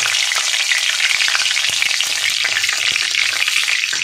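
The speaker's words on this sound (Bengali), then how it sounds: "জিরেটা থেকে ভাজা ভাজা গন্ধ বেরোনো পর্যন্ত নাড়তে থাকবো।" A bay leaf and whole cumin seeds fry in hot oil with a loud, close, continuous crackling sizzle that stays even throughout.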